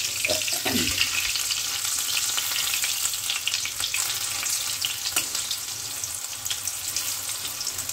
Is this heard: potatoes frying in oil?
yes